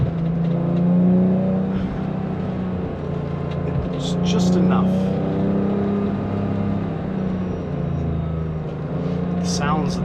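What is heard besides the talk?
1988 BMW E28 M5 engine while driving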